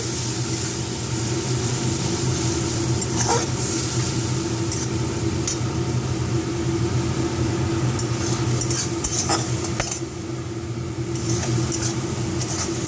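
Ground cumin and coriander spice mix frying in hot oil in a pot: a loud, continuous sizzle with frequent scraping stirs and occasional clinks of the utensil against the pan.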